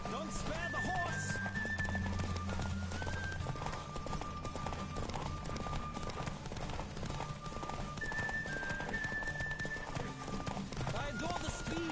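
A horse gallops hard in The Witcher 3, its hooves drumming in a fast, steady clip-clop across the whole stretch, with music and voices speaking over it.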